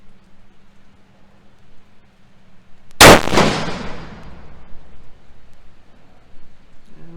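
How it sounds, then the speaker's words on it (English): Single sharp gunshot from a Savage 110E rifle chambered in .270 Win, fired on a long-range shooting setup, loud and sudden with a rolling echo that decays over several seconds against quiet surroundings. "We'll take a shot there."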